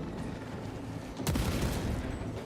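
Gunfire and explosions from the Space Marine 2 video game rattle in a dense, distant-sounding barrage, with a sharper blast bursting through halfway and the chaotic firing continuing at a low, muffled level.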